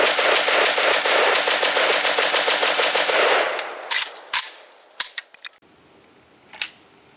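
A Cugir WASR-10 rifle fires a rapid, sustained string of loud shots for about three seconds, then stops, followed by a few sharp metallic clicks and clacks of the action being worked.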